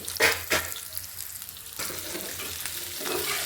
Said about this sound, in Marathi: आता मस्त परतून घ्यायचे आणि पाच मिनटं याच्यावर झाकण ठेवून द्यायचं